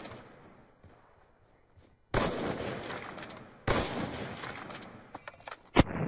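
Gunfire bursts through a wall in a first-person shooter game, with rapid loud volleys in two long stretches followed by a few sharp separate shots.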